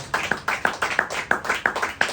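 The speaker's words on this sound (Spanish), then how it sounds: "Denle un aplauso al Señor" Rhythmic hand clapping at a church service, in an even beat, several sharp claps per second, fairly close and moderately loud, with no talking.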